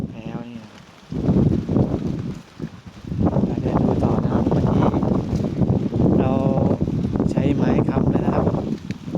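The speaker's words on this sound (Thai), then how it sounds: "ลมแรงมาก" Strong wind gusts across a farm plot of young papaya and coconut trees, loud rumbling buffets against the microphone in long surges, with someone talking over it.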